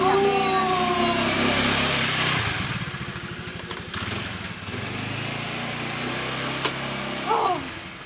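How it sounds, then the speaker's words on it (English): Motorcycle engine running in street traffic, a loud revving drone that settles into a lower rumbling idle, with a few brief sharp noises near the end. "Your motorcycle is really disturbing."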